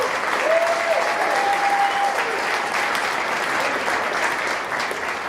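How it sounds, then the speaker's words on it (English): Audience applause at a community banking technology demo day event, steady dense clapping from a crowd filling the room throughout, with a brief whistle-like tone early on. "give him a round of applause for that"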